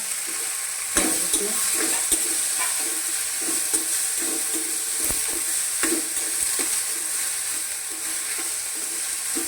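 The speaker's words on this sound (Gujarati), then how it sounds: "હવે આપણે આ જે ગલકા ધોઈને રાખ્યા હતા એ ગલકા અંદર એડ કરી દઈશું" Ridge gourd tipped into hot oil tempered with cumin, asafoetida and turmeric, giving a steady close sizzle and frying hiss with scattered clicks and stirring scrapes, no talking.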